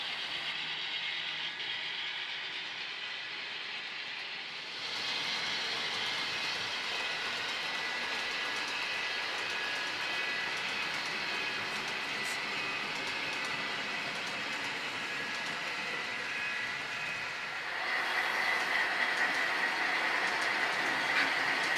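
An HO scale model train runs along a layout module beside a large passing track, giving a steady rolling rumble with light clickety-clack, close and continuous throughout, growing a little brighter and louder toward the end.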